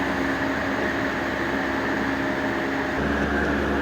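A Super Asia ECM 4500 Plus room air cooler runs with a steady, even fan and airflow hiss and low motor hum, close and continuous, with no talk.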